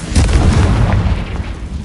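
Confringo blasting spell in Hogwarts Legacy going off as a loud, rumbling explosion, a heavy booming burst that stays thick and dense throughout its short span.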